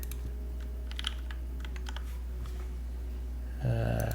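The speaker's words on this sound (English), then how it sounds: "I recently bought this keyboard. It is a PH60" Typing on a secondhand PH60 top-mount keyboard: scattered light key clacks at close range over a steady low hum, with a short burst of a different noise near the end.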